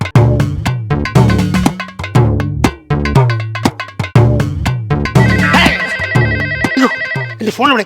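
A phone ringtone plays loudly in a repeating melodic pattern, with a voice talking over it near the end.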